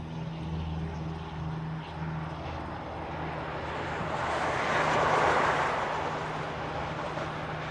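An ANA Boeing Dreamliner airliner in Star Alliance livery passes at a distance, its jet roar faint and swelling toward the middle before easing, over steady low background hum.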